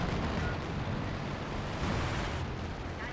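Strafing-run explosions roll through a Company of Heroes 2 battle on the Hill 400 map: a dense, continuous rumble of blasts and gunfire, distant and fairly quiet, with no clear gaps.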